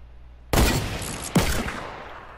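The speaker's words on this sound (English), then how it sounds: "Did you shoot a hunting rifle that last second?" Two loud, sharp hunting rifle gunshots in a Wild West-themed shooter game, roughly a second apart, each with a ringing tail fading into quiet.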